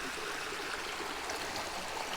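Flowing stream of water, a continuous bright rushing and babbling wash, steady and fairly close, with no other sounds.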